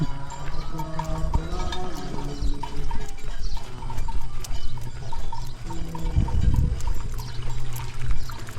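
Steady rushing water streams and gurgles over rocks close by, a continuous wash of noise with no talking.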